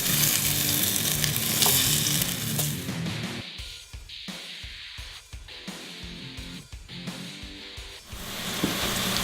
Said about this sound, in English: start putting these bad boys in there on medium heat and fry them up